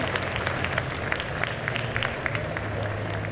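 At a Belgian World Cosplay Summit selection, a crowd applauds the cosplayers with steady, dense clapping throughout, sharp individual claps standing out over a low hall rumble.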